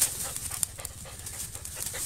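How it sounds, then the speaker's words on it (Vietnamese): A highland Vietnamese hunting dog pants steadily and close, with quick rhythmic breaths continuing through the moment, with no talk over it. "Giống này là giống chó săn"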